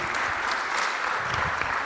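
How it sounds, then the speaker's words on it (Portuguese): Audience applause at a conference session, a dense, steady clapping from a roomful of people that holds evenly throughout without voices on top. "Uma salva de palmas."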